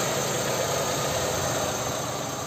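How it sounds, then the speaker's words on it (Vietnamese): A 2009 Hyundai Tucson petrol engine idles smoothly and quietly, a steady low hum heard close up with no variation over a couple of seconds. "tiếng động cơ đang hoạt động này, chạy khá là êm này"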